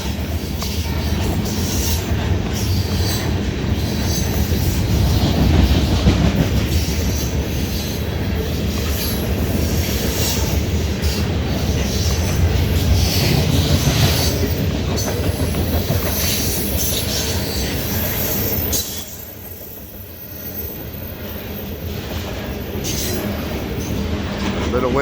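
A CSX eastbound ethanol freight train passes close and loud, with continuous rumbling, clattering wheels and squealing that carries on throughout and eases a little near the end.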